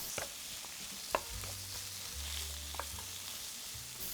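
Carrots and onions stir-fry together in a pan, a steady soft sizzle with a few sharp scrapes and taps of a spatula, close and fairly quiet, without speech.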